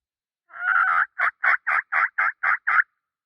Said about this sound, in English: if it was actually some gobbles